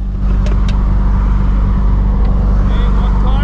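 A Nissan Skyline R32 GTR fitted with a Mines equal-length front pipe exhaust drones steadily and loudly from inside the moving car, a constant deep engine and road hum with no break throughout.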